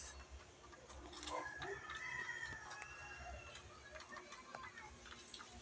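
Two shy chicks give faint, scattered peeping chirps close by, quiet against a soft outdoor background murmur.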